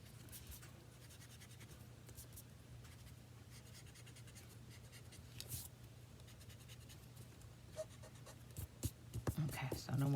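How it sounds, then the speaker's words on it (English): A pencil eraser rubs across a handmade birthday card in short, quiet scratching strokes, soft and close, with light rustles and taps toward the end. "should have erased my pencil lines,"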